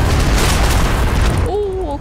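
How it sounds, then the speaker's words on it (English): A missile explosion in Starfield comes as a loud, dense roaring boom that fills the first second and a half, then cuts away to someone speaking briefly. "Eat missile and die."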